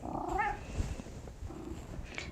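A cat in a room where yoga is being practised gives a brief meow near the start over a steady noisy background, followed by low rustling and faint room sounds.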